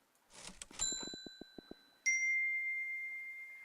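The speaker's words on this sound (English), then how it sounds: "I guess I got a text from my brother" A phone text message notification chimes inside an indoor room, starting with a quick run of bright ticks and then holding a sustained electronic ding that rings out clearly and alone.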